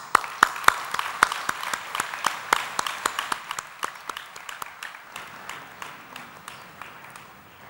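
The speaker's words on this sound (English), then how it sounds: "Let us now invite Kasia Andersen with a huge applause." An audience at a devotional drama event claps, starting with loud distinct claps up close that blend into steady applause and gradually fade over several seconds.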